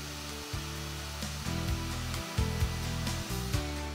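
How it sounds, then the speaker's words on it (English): An electric router plunge-cuts a mortise in the end of a wooden rail, making a steady motor whine that dips and rises briefly several times as it bites into the wood. "So that's basically how you route the mortise in"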